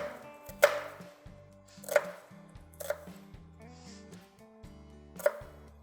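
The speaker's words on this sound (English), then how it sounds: "using my both hands on the knife blade, I'm chopping." A knife chops vegetables for a southwestern table salsa, giving four crisp, well-spaced chops close by over soft background music.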